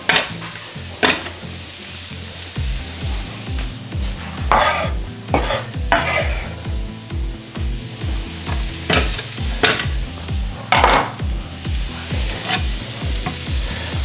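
Shallots sizzling in a pan for a creamy garlic white wine langoustine fettuccine, a constant frying hiss broken by a regular rhythmic scraping of stirring and occasional bright utensil clinks, close and clear with no talking.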